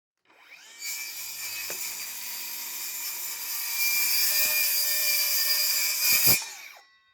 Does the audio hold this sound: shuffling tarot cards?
no